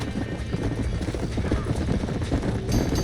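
Horses in Red Dead Redemption, stirred up as a barn burns, gallop with dense, steady clip-clop hoofbeats and occasional whinnies, loud and continuous throughout with no talking.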